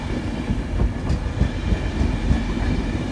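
A TransPennine Express Class 185 diesel train passes close by in York, its wheels clattering rhythmically over the rails beneath a steady engine rumble, with no one speaking.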